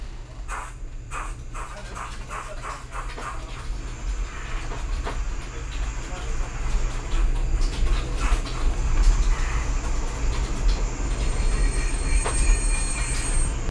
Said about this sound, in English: the train will come to a gradual stop, and then there's brake squeal as well